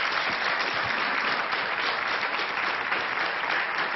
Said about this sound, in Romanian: aș vrea să o aplaudați în minutele următoare